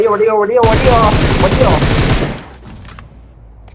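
Rapid automatic gunfire in the video game BGMI, a loud close burst of shots lasting under two seconds, with a voice before it and a quieter tail afterward.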